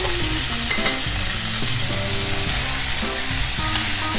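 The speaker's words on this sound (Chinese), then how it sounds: "让它煎个3分钟，这样它变成金黄色" Pork ribs fry in a pan for braising with coffee beer, giving a loud continuous sizzle with scraping stirs and clinks throughout, no talking.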